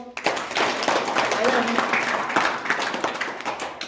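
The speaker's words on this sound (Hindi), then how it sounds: "ताली बजाओ" Schoolchildren in a classroom clap for a classmate who came first in a test, a scattered, uneven patter of small hands with voices talking over it.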